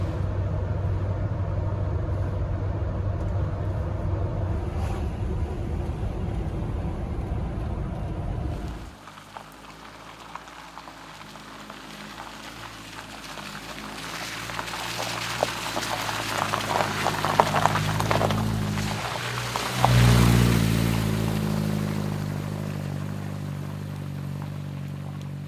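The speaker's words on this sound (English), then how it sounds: "We're still driving down this dirt road here." Car rolling down a dirt road on the Oregon Coast, a steady low engine and tire rumble that drops off, then rattling gravel and bumps build up again, with no talk.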